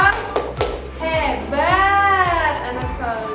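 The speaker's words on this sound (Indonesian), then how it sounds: "Tepuk anak hebat." Young children clapping rhythmically in a classroom chant, sharp hand claps in a steady beat under a woman's sung, stretched vocal line.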